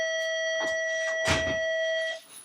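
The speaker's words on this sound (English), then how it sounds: "there was another bell" A sustained electronic bell tone rings steadily for about two seconds, with a few soft thumps and rustles around it before it cuts off.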